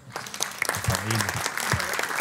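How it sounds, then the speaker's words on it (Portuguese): Applause rises at a city council session after a measure passes unanimously, a steady wash of clapping from the councillors and audience with a voice briefly audible underneath. "Uma grande salva de palmas"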